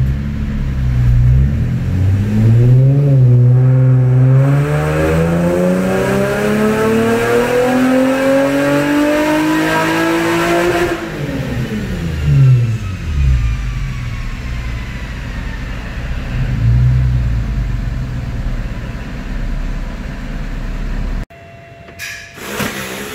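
Car engine revving hard through a dyno pull after fuel tuning, loud and continuous, the pitch climbing steadily for about ten seconds before dropping away as the engine winds down, then a sudden cut near the end.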